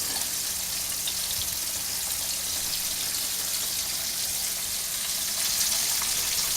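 Meat sizzles steadily in a hot pan, a close, even crackle with no break and no talking.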